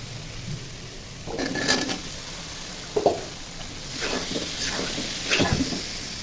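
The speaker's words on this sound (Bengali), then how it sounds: "মশলা ভাজা ভাজা হয়ে গেছে, এখন আলু দিয়ে এখন আলুগুলো দিয়ে কষে নেব।" Potatoes frying and being stirred with spices in a pan, a moderate sizzle with scattered stirring scrapes and a sharp utensil knock, close by and without talk.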